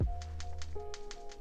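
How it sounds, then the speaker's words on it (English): Someone types on a keyboard paired with an iPad, producing a few light, evenly spaced key taps close by over a low steady hum. "So I'm gonna type this in."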